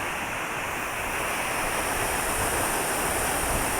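A waterfall and rushing stream roar in a steady, dense wash of water noise that stays loud and unbroken throughout, with no voices.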